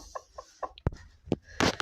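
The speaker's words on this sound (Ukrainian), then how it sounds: "Качка сидить, квочка сидить, квочка на 10 каченях." A broody hen sitting on ten ducklings clucks softly in a short run of low, evenly spaced clucks, followed by a few sharper, louder calls and a brief burst of noise at the end.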